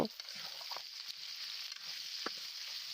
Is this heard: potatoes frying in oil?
yes